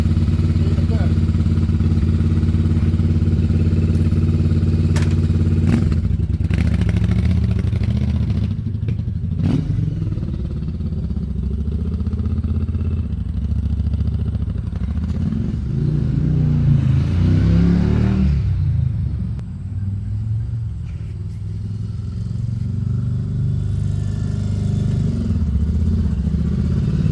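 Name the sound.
Yamaha Virago 750 chopper motorcycle riding up the road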